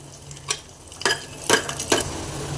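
Garlic and cumin in hot ghee in a pan for tadka give a soft background sizzle, broken by four distinct scraping taps of a spoon stirring against the pan.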